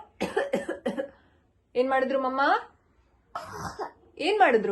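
A mother coughs several times at a baby imitation game at home, short bursts set between pauses of voiced, throaty sound, close to the microphone and fairly loud.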